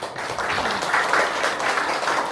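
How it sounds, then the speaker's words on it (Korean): A brief burst of audience applause at a church training session, soft, steady clapping from a seated group heard at moderate distance. "수고하신 모든 분들께 우리 박수 한번"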